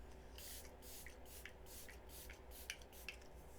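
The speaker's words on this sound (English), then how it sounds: "I'm gonna spray right now" Several short hissing bursts of a makeup setting spray bottle, quiet and close, spaced irregularly with small clicks between them.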